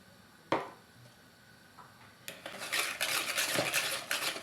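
Rapid metallic whisking of a wire whisk through eggs and sugar in a bowl, starting with a single clink and then building into a steady, dense scraping rhythm.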